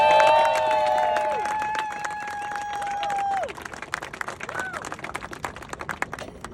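At a grand opening ribbon-cutting, a crowd claps and cheers for an executive vice president. Busy overlapping claps fill the back half, following a cheering voice with sustained tones at the start.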